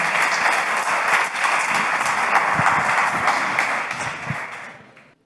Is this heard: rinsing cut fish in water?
no